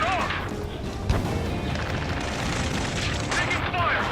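Ace Combat 7: Skies Unknown combat mission with dense gunfire and explosions, a continuous loud roar of booms and blasts with a sharp thud partway through, overlaid with shouted voices.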